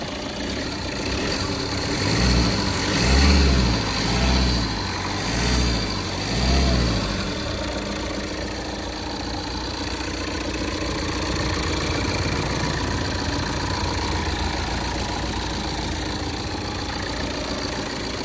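A 2023 Tata Altroz 1.5L diesel with about 41,000 km idles with a steady, close mechanical hum, a few louder low swells early on, then an even, smooth drone.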